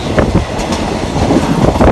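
Train 262 from Hua Hin to Bangkok running on the line just past the Phetchaburi River crossing, with a loud, steady rumble of wheels and carriages and faint rhythmic clatter.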